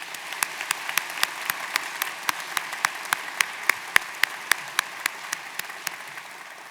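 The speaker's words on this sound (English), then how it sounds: "Let's give them one more round of applause." A school Veterans Day assembly applauds the West Ottawa band and choir with steady, evenly spaced claps in a regular rhythm over a soft background wash, continuing throughout.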